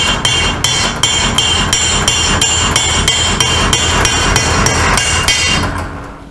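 A hammer taps steadily and sharply, about fifteen close, evenly spaced ringing metallic blows, driving a swing arm bearing into place on a 1983 BMW R80ST motorcycle, the strikes fading out at the end.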